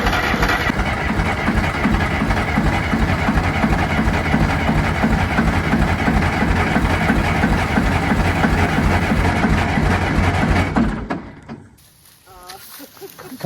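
An old John Deere engine that is smoking runs with a steady, throbbing chug under talk, then cuts out abruptly near the end.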